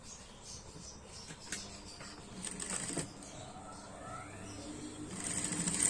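A sewing machine stitches a blouse neckline in short bursts of quiet, rapid mechanical whirring and clicking, fairly faint and close, with pauses between runs.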